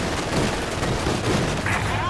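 Video game gunfire crackles in a dense, continuous barrage, loud and close throughout the short burst, mixed with other battle noise.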